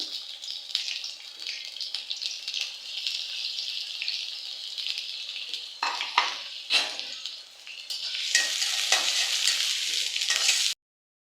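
Onions sizzle and crackle steadily in hot oil in a wok while a spicy chicken curry is being made. The frying swells louder near the end, then cuts off abruptly, with no talking.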